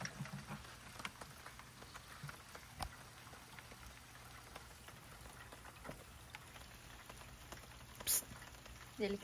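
Rain falling steadily outdoors at a fish pond area, a soft continuous patter with scattered louder drops and a few sharp taps against a surface.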